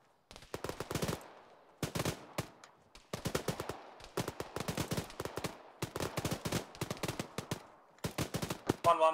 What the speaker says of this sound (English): I'm hearing a lot of gunfire to my west.